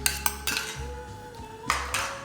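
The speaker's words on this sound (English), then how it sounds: "First, we are going to mix all of these things together in one bowl." A spoon clinks and scrapes against a bowl while chaat masala, salt and yogurt are mixed, giving several sharp taps amid quieter stirring and a faint steady hum.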